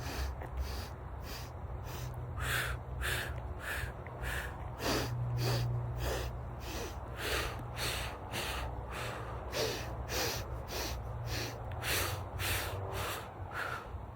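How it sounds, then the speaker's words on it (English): A person does a breathing exercise, with short, sharp, forceful breaths through the nose in a quick, steady rhythm. The breaths are close and fairly loud over a faint low hum, with no speech. "So I do this 4 in and 4 out breathing exercise."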